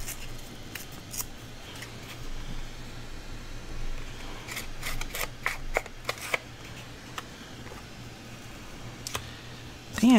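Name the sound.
scissors trimming paper for mini notebook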